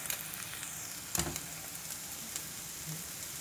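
Preserved radish (chai po) and egg are stir-fried in a pan, producing a steady, soft sizzle with one brief scrape of stirring, close but fairly quiet and with no talking.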